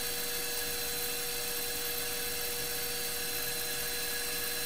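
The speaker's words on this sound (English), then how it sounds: "And now send to drill the opposite end." Steady mechanical whine of a drill running continuously at high speed, pilot-drilling the end of a custom frame slider for a Kawasaki Z900RS motorcycle, with a constant buzzing hum and bright tonal overtones throughout, no voices.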